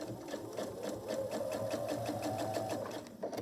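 A sewing machine stitches binding onto a quilt, a steady fast rhythmic whirring and clatter running continuously at close range with no talk.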